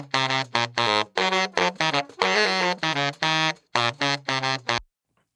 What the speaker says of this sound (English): and then here's the baritone.